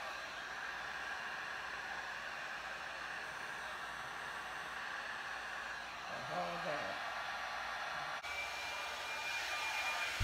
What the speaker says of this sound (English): I pulled the blow dryer out and I'm just going to mix the colors up with my blow dryer